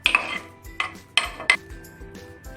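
Apple and banana being stirred into chilled vermicelli in a bowl, with a handful of sharp utensil clinks and scrapes against the dish spaced irregularly, close and fairly loud, no voices.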